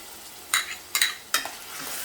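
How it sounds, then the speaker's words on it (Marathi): Onion and tomato fry in oil for a Dhaba-style rajma masala, with three quick stirring scrapes over a faint sizzle, each stroke crisp and close. "कांदा टोमॅटो पण मस्त तेल सुटेपर्यंत आपल्याला परतून घ्यायचं आहे"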